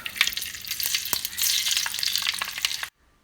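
Mustard seeds and fenugreek frying in coconut oil left from frying beef, a bright close crackle and sizzle with popping seeds, which cuts off abruptly near the end.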